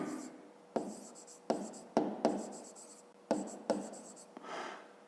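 A pen writes a math equation on paper in short bursts of scratchy strokes with pauses between them, close and fairly quiet.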